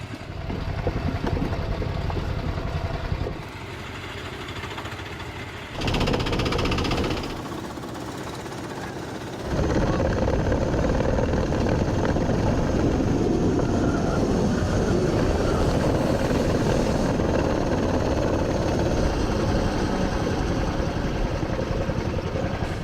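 A go-kart engine revs and drones as a double-seater kart drives around a track, loud and close, with brief drops in pitch and level early on before settling into a sustained rough roar.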